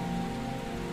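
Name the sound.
rain falling, sound effect in a story dramatization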